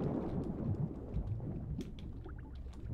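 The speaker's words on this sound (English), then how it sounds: "Well, you want to wait out the storm?" A low, rumbling thunderstorm with rain patter plays in the pirate video game Sea of Thieves. Scattered crackling drops and splashes are heard at moderate loudness, with no voices.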